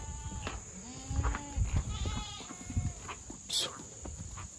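Goats in a herd bleat repeatedly at close range, several overlapping wavering calls, while a person shouts commands over background farm noise.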